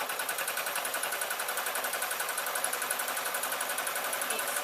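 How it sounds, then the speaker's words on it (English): A sewing machine runs steadily, stitching a long fabric strip made from jelly roll strips onto a tote bag, its rapid even needle clatter continuous throughout at close range with no talking. "And then I'm going to sew"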